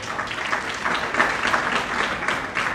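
An audience at a Hindu spiritual gathering applauds to welcome a group of Vedic students, a sustained wash of many hands clapping at moderate distance, swelling slightly midway.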